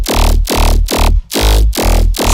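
A heavy dubstep bass, processed with OTT compression, distortion and EQ, pulses in about five loud, gritty, buzzing bursts with short gaps between them.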